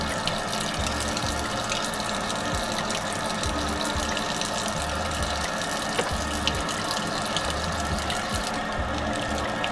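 Hands rinsing under a steadily running tap, washing away a homemade shea butter, rose clay and activated charcoal soap, with a continuous close splash and clatter of water.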